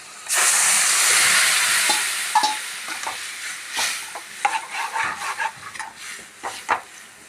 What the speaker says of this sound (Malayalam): നമ്മൾ വേവിച്ച് വെച്ച പരിപ്പ് ഇതിലിടണം